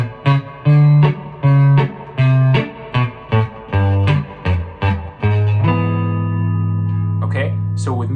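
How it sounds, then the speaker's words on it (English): Western swing guitar in D, played alone and fairly close, picking short rhythmic notes with low two-note bass fills dropped between them, then a sustained ringing chord at the end. "that's when you're going to be dropping in that bass note fill"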